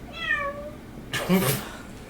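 A cat meows twice close by, a drawn-out tonal cry followed after a pause by a louder, harsher yowl.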